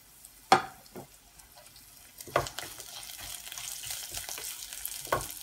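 Onion, ginger, green chilli and curry leaves sauté in a pan for a Kerala fish peera dish, a low steady sizzle broken by a few sharp scraping stirs and clinks.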